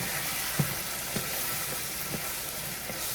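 Spanish rice, with tomatoes and onion, fries in a pan over heat turned down, giving a steady low sizzle punctuated by a few soft, irregular clicks and taps from the pan.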